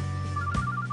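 A mobile phone ringing in a quiet room, its electronic ringtone pulsing in a steady repeating pattern, close and clear, with no talk over it.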